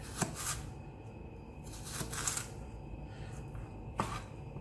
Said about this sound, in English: as you become more confident, you can chop a lot more quickly